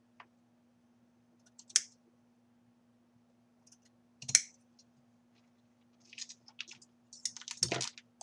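Scissors trimming corset material at a craft table, heard as a few separate crisp snips, then a quicker cluster of close, light cutting clicks near the end over a quiet steady hum.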